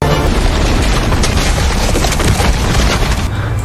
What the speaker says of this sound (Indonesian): Setelah dinamit meledak